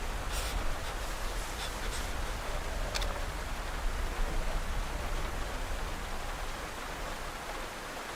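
Rain falls steadily in the survival game DayZ, an even, dense hiss of drops with a few faint ticks and clicks layered over it throughout.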